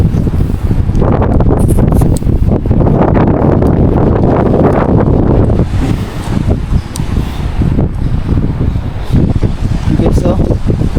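Strong ocean waves crash on an island shore, a loud, continuous surf roar with heavy wind buffeting the microphone throughout.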